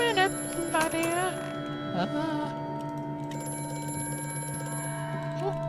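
A telephone rings inside the horror game Amnesia: A Machine For Pigs, a bright repeating bell-like trill that starts at once, rises over a steady low industrial hum and tapers off within a couple of seconds.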